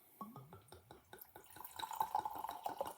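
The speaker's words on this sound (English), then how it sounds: "let me pour a little wine" Wine poured into a glass from an already opened bottle, a series of soft glugging drips that settle into a steady trickle as the glass fills, quiet and close.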